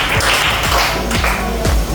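Audience applause at a school guidance-counselling session, dense clapping sustained and fairly loud across the whole span with a few sharper individual claps standing out.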